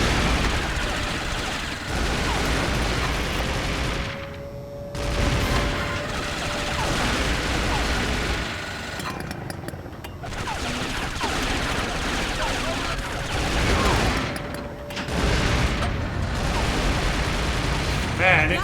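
Rapid bursts of gunfire and explosive booms from the 007 Nightfire video game, heavy repeated volleys with brief lulls between them, punchy and loud throughout.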